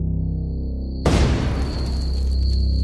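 A loud explosion at a mansion in the early morning bursts suddenly over a steady low rumble and a thin high tone, then trails off into a long, rolling roar.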